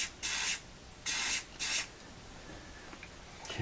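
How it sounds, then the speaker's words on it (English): Activator sprayed onto a Mercruiser Alpha One U-joint bellows part in three short hissing bursts, close and moderately loud, with quiet pauses between them. "Hit this side with the activator."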